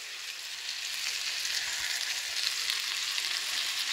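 Steaks fry in a hot pan over a lowered flame with leftover spice masala, giving a steady, even, close hiss of sizzling that holds throughout.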